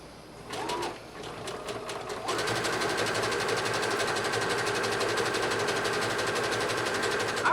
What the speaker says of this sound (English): I'm going to zigzag stitch all the way around this raw edge to give us a nice finished look